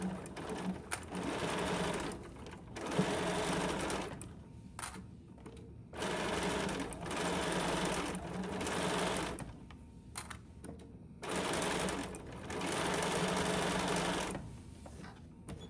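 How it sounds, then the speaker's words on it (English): A sewing machine runs a quarter-inch seam on a beginner quilt block, whirring in four steady bursts of several seconds each, separated by short pauses. "Now we're going to sew this side, 1/4 inch seam, back stitch at the front, at the beginning, and at the end."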